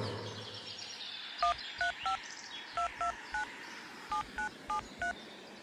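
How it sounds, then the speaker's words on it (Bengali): A telephone number is keyed in as a sound effect in a Bengali audio drama: about a dozen short, clear touch-tone beeps in quick groups of two or three, loud over a faint hiss, with no talking. "এবার জুবের নিজে থেকেই একটা ফোন করে।"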